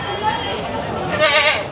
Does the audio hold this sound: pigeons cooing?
no